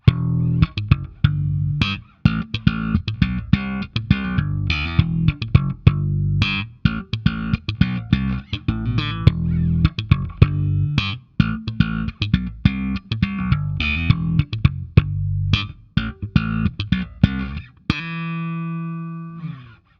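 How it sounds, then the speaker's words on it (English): Bass guitar slap playing through a Gatekeeper GK-Drive overdrive pedal set to high gain, a dense run of sharp percussive popped and thumbed notes with gritty sustain, loud and close, ending on a ringing held note. "You can also do some serious high gain for some slap tones."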